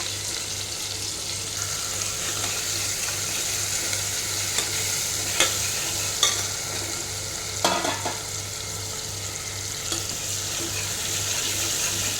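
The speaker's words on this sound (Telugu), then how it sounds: "వేడైన నూనెలో నేను మొదటిగా ఉల్లిపాయ మరియు టమాటాని వేసాను. అవి ఇప్పుడు వేగేంత వరకు కలుపుతాను అన్నమాట." Onion and tomato frying in hot oil while being stirred, a steady close sizzle with occasional sharp scrapes and clinks of the spoon against the pan, no talk.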